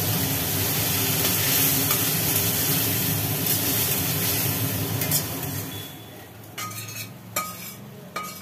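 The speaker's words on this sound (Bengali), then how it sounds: "তাই কালো জিরে দিয়ে এই পোস্তটাকে সাঁতলানো হবে।" Poppy seed paste sautéing with nigella seeds in a hot pan gives a steady, loud sizzle with scraping stirs, fading and turning more intermittent toward the end.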